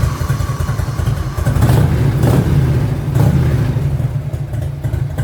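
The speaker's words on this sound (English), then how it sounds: "Sounds like a happy motorcycle to me." A 1985 Harley-Davidson FLHT Evolution V-twin idles with a steady, lumpy loping rumble, close and loud, swelling with a couple of throttle blips before settling back to idle.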